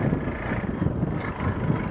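A motorbike engine chugs along on a rough road, up close, its low throb rising and dipping unevenly as the bike jolts over the bumps.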